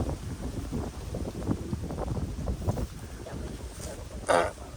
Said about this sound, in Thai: ลมนี่เป็นตาย่านนะ